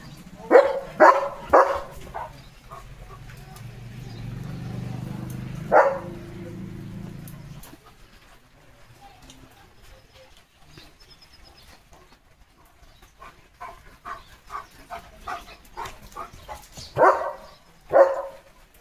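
A German Shepherd barks in several sharp bursts near the start, then again toward the end, with quieter stretches and faint background noise between.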